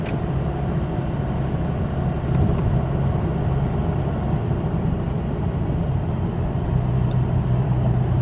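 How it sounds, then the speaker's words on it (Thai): Steady, loud low rumble of a vehicle travelling along a road near Khao Suan Kwang in Khon Kaen province with light traffic around, an unbroken drone of engine and tyre noise throughout. "บรรยากาศข้างนอกนะครับ รถก็ไม่ค่อยเยอะเท่าไหร่ครับ"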